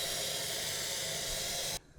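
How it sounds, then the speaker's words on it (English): A pot of water boils for pasta, giving a steady broad hiss that holds evenly and then cuts off abruptly near the end, leaving faint low noise. "So we've got the water boiling away"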